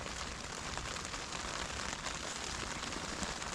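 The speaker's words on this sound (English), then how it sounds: "It's raining." Steady rain drums on a tent during a thunderstorm on a mountain trail, a dense, even patter that stays close and constant with no talking over it.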